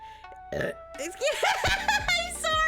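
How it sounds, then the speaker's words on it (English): A person lets out a long, drawn-out burp after drinking a lot of soda, close and loud, its rough croaking tone wobbling up and down over a couple of seconds, with a short voiced sound before it. "I'm drinking a lot of soda recently, that's why I'm burping so much"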